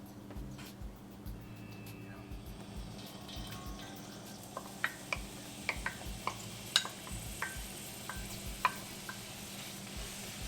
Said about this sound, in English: And we're only going to give the onions a quick saute.